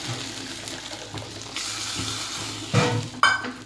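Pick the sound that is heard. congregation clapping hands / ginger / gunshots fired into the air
ginger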